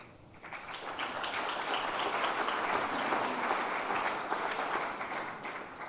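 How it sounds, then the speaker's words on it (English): A conference audience claps for an AI panel speaker, a moderately loud wash of applause that swells, holds for several seconds and tapers off, with no talk over it. "That should have been a much louder clap"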